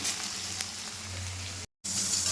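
Okra frying in a pan with chili powder, turmeric and salt, a steady close sizzle and crackle with a brief dropout near the end.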